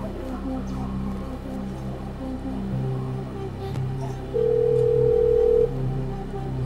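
An international telephone call to America rings through, with a steady tonal ringback hum under a quiet studio background during a televised quiz show; a clear, louder tone segment stands out near the end, with no speech over it.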